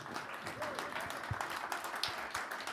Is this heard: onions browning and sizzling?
no